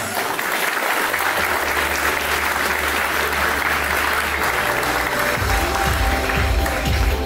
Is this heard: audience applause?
yes